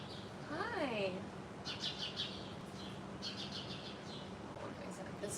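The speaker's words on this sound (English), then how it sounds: "This robin. I think it's a robin." A robin sings outdoors in a city setting. Quick bright chirps and trills repeat over steady street ambience, a little distant and set against the background hum.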